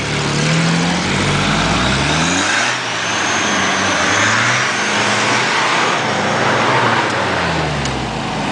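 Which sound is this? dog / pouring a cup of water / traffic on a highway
traffic on a highway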